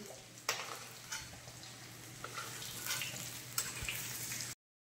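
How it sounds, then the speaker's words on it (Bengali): Potatoes frying in hot oil, a continuous soft sizzle broken by several sharp clinks of stirring, close and fairly quiet, with no voices. "তেল গরম হয়ে গেছে, এবার আলুগুলো আমি ভেজে নেব"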